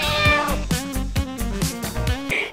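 A cat meows repeatedly in a run of drawn-out, wavering cries, close and fairly loud, with a few of them rising toward a caterwaul.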